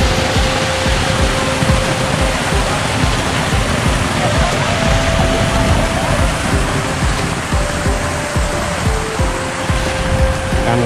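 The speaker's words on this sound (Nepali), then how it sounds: "नेचुरल जस्तै बनाइरहेको क्या झर्ना होइन" An artificial waterfall in a children's park in Komaki, near Nagoya, Japan, pours with a constant, loud, broadband rush of falling water. Faint voices sit underneath.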